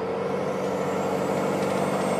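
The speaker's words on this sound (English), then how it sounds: "Now the minute I tap the pedal to accelerate," 6.7 Cummins diesel truck with a 64mm VGT turbo accelerating, a loud steady engine roar with a faint rising turbo whistle above it, heard from close by with no voices.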